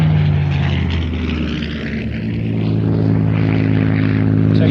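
Spitfire propeller aircraft with Soviet red star markings flying past at the Midlands Airshow, a loud steady piston-engine drone with a slight dip and swell as it passes.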